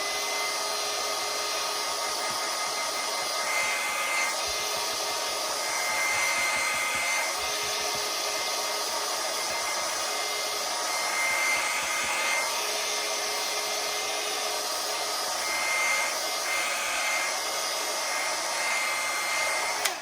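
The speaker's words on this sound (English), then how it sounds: "It's a brush dryer really, but I took the brush end off and then just use that." A Tresemme brush dryer with its brush end removed blows air steadily to dry a watercolour painting, a constant loud whooshing hum that stays even throughout with no voices.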